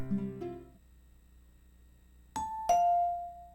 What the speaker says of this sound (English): Did someone ring the doorbell?